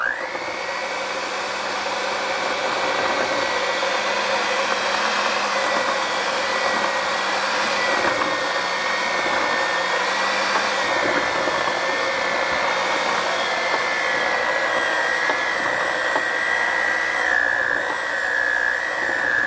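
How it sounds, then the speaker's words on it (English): An electric hand mixer whirs steadily through batter, a loud, continuous motor drone with slight pitch wavers as the beaters move, heard close and alone. "I'm going to go ahead and just use the hand mixer on this."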